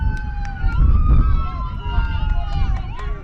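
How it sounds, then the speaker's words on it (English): A loud ambulance siren sweeps up and down in pitch close by during a high school softball game, over a rumble of traffic and background voices. "One of the louder sirens I've heard in my lifetime"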